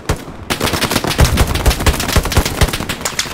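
Rapid bursts of machine gun fire from a gunner in a building window in the World War II shooter game Hell Let Loose, loud and close, with rhythmic repeated shots filling the stretch without any talk.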